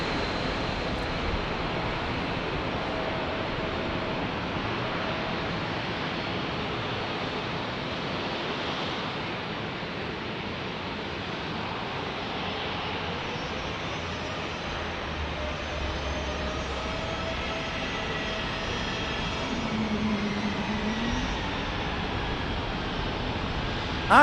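A Breeze Airways airliner passes near San Diego airport as a steady, broad jet roar that holds at an even, moderately loud level throughout, without people talking.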